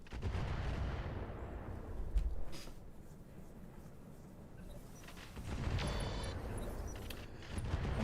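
Turret gunfire in the BattleTech video game RogueTech: heavy booming shots and rumbling impacts arrive in clusters, loud and close, with a quieter lull between bursts and no talk.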